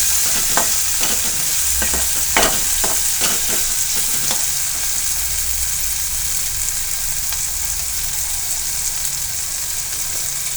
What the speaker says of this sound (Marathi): सर्व गोष्टी व्यवस्थित परतून झाल्यानंतर आपण याच्यामध्ये शिजवलेल्या डाळी टाकणार आहोत.